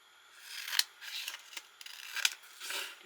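Scissors cut a piece of craft vinyl by hand. Close, crisp snipping and rasping strokes come in uneven bursts, with no talk.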